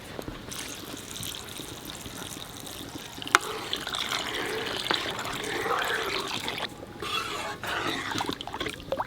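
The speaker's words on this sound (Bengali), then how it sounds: "ডাল গোটা হয়ে গেছে এইবার জল দিয়ে দেবো" Water running and trickling steadily into a pot of cooking dal, a continuous close pouring splash with small gurgling variations and a few sharp clicks.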